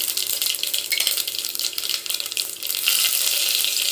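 Mustard and cumin seeds frying in hot sesame oil for a South Indian kara kuzhambu, giving a loud, continuous close-up crackle and hiss that thickens slightly near the end.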